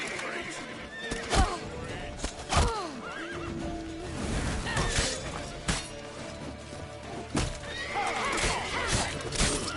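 Horse neighing and whinnying in The Witcher 3: Wild Hunt, several loud calls over game action, with shouting voices, hoofbeats and crashing impacts around them.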